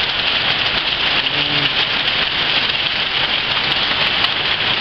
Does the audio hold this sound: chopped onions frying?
no